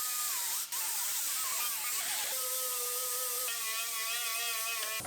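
A power tool cleans up spot welds on the center post of a 2017 GMC Terrain Denali, a steady high-pitched whine and hiss that shifts pitch partway through, loud and continuous with no talking.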